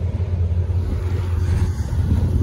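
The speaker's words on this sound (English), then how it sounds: "Well, it's just a lightning pulled up." A Ford F-150 Lightning pulling up beside a Dodge Charger 392 Scat Pack, giving a steady low rumble of a vehicle idling or rolling nearby, fairly loud and continuous with no voices.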